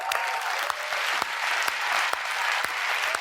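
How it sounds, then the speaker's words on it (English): Canned applause plays in an apology video, an even, crisp wash of many clapping hands that stays at the same level for a few seconds. "That was canned applause"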